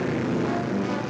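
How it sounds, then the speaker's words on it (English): Luftwaffe warplanes roar overhead during the invasion of Poland, a steady broadband engine drone with a propeller-like rumble filling the whole moment, loud and continuous. "the planes of the Luftwaffe were over Poland"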